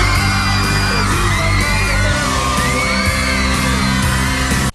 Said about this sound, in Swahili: Watu ni kupiga kelele.